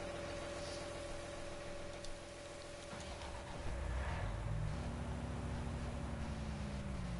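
A truck engine idling in the video game Farming Simulator 19, a low, steady droning hum that gets louder and shifts pitch partway through, faint and without voices.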